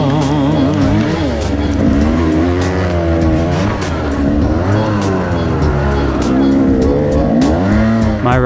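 Enduro dirt bike at a rough Tennessee woods race roaring close by with a steady, loud engine drone that swells and dips as it passes, with scattered bursts that may be thrown dirt, the roar continuous throughout.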